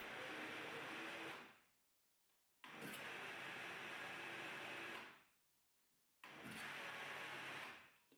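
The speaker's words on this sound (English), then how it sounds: "You're going to pulse this batter 5 times." A blender pulses carrot cake batter in three loud motor bursts of a couple of seconds each, separated by short near-silent pauses, with no talking.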